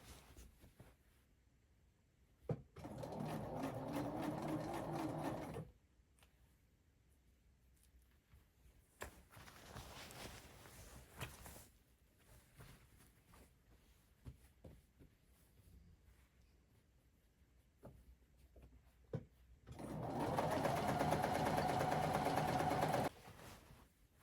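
A sewing machine straight-stitches along the edge of a crochet patch, running in two steady, fairly loud bursts of a few seconds each, separated by quiet handling and faint clicks.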